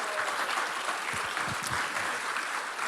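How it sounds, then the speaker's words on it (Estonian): A church congregation at a summer camp service applauds their construction manager, a steady wash of clapping from a roomful of people, with a few low thumps and murmurs underneath. "Teeme Tanile suure aplausi."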